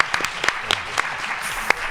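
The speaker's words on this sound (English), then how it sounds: "let's applaud our panelists here, both Dean, Michael, Maya, and Matt," A panel audience claps steadily in a hall, a dense patter of many hands with a few sharper individual claps standing out, moderately loud and without speech.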